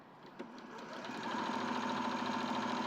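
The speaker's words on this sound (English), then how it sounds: "So the first thing I'm going to do is just stitch down that length using my sewing machine." A sewing machine stitching down a length of fabric casing, a fast steady mechanical whir with rapid rhythmic needle clatter that builds up after a brief start, close and without talk.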